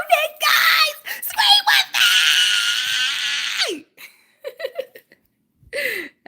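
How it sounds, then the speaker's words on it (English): A person screams loudly and excitedly in several bursts, one long sustained shriek, with breathy laughter and short squeals between. "Scream with me."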